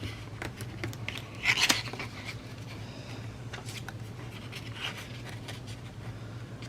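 Scissors snip through a clear self-adhesive pouch envelope pocket in a quick cluster of crisp cuts, close and fairly quiet over a faint steady background hum, with no talking.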